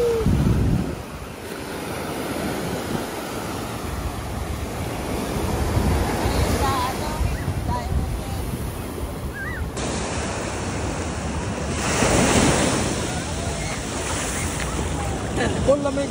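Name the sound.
ocean waves at Waikiki Beach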